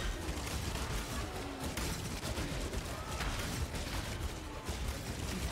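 Dense, continuous burst of crackling detonation effects from the video game Path of Exile, loud and unbroken throughout with a heavy rumbling low end and no clear gaps between blasts.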